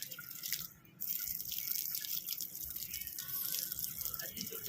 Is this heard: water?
yes